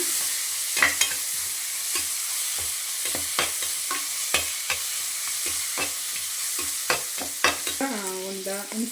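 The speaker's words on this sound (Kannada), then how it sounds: "ಪುದೀನ ಹಾಕೊಂಡ್ಮೇಲೆ ಸ್ವಲ್ಪ ಫ್ರೈ ಮಾಡ್ಕೊಳ್ಳೋಣ" Mint leaves fry in a pan for mutton sukka with a steady sizzle, while a spoon scrapes and stirs in frequent irregular strokes close by; a voice briefly sounds near the end.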